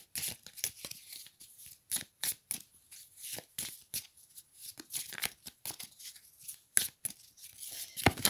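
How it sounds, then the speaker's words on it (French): Oracle cards being shuffled by hand, a quick run of close, crisp riffling and slapping bursts in irregular rhythm, with brief pauses between clusters of card flicks. "là, beaucoup trop de cartes sont tombées"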